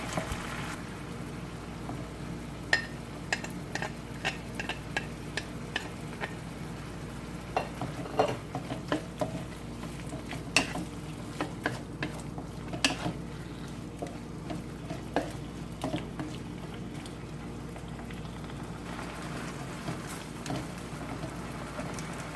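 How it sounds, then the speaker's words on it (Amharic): Steady sizzling of garlic frying in a pan with scattered sharp clicks and stirring scrapes, continuous throughout with no voices. "ከነጭ ሽንኩርቱ ጋር አብሬ ጠብሰዋለሁ"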